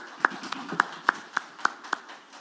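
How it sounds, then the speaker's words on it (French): Sparse, evenly spaced claps from a small audience applauding a finance minister, about half a dozen distinct hand strikes over a quiet room. "Je pense qu'on peut applaudir le ministre."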